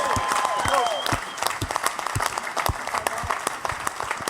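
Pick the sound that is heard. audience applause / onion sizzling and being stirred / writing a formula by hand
audience applause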